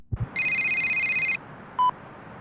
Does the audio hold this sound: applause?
no